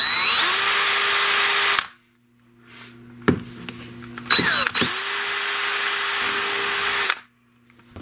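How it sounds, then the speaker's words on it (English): Power drill boring a hole all the way through a part for a mechanical tremolo build, two long loud whining runs with a spin-up, separated by brief clicks and handling noises, no voices. "go ahead and finish drilling it all the way through."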